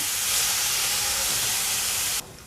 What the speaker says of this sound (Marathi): आता हे छान असं परतून घेते